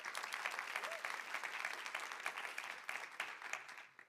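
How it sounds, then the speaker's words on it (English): An audience applauds welcoming panelists at a food loss and waste event, steady dense clapping from a crowd lasting several seconds before fading. "please welcome them to the panel with a round of applause"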